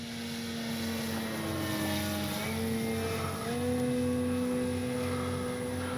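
An Avios Extra NG radio-controlled model airplane's motor whines steadily during high-speed 3D flying, its pitch rising and shifting as it maneuvers, buzzing clearly without any talk.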